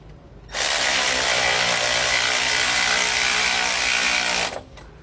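Hardware is tightened with a 15mm socket and wrench while SumoSprings Rebel custom helper springs are installed, giving a steady, loud mechanical ratcheting buzz that starts abruptly, runs about four seconds without pause, then stops, with no talk over it.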